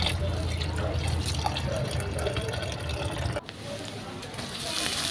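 Tap water runs and splashes over chopped potatoes being rinsed in a kitchen, a steady close wash of water with a brief shift partway as the flow changes.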